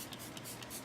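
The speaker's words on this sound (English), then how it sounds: "we're gonna spray it down with their filter cleaner quick" Filter cleaner sprayed onto the dirty intake side of an oiled air filter: a brief, steady, close hiss lasting under a second, heard alone.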